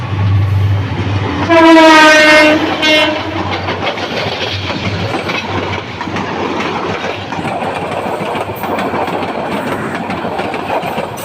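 A long Bangladeshi train passes close by beside a flyover, its horn sounding briefly near the start, then a steady loud rumble and clatter of wagons rolling past for the rest of the stretch.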